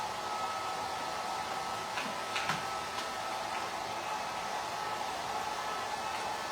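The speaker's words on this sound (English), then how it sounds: "I just picked up my hair dryer" A handheld hair dryer blows steadily and loudly throughout, a constant broadband whoosh with a couple of faint clicks or knocks near the middle, with no talking.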